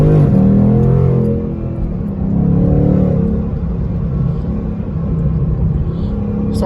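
A 2020 Ford Mustang GT with a 10-speed automatic pulls hard under acceleration, its engine rumbling low and loud as revs climb, dip briefly at a shift, then build again from inside the cabin.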